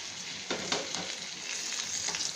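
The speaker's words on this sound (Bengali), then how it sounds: "আলুটা আমরা হালকা করে ভেজে নেব" Potatoes frying lightly in a pan for shahi aloo korma make a soft, steady sizzle with a couple of brief stirring scrapes, heard alone.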